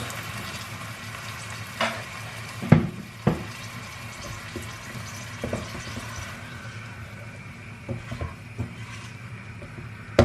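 Water goes into a hot pan while a mussel filling for börek cooks. Steady frying sizzle and bubbling fill the clip, with occasional clinks and stirring knocks close by and no one speaking.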